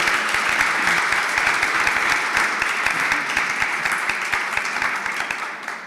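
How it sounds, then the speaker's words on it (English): A conference audience gives warm applause to a panel on ocean health and coastal resilience, with steady, dense clapping that slowly thins and softens over six seconds. "I think a warm round of applause is in order."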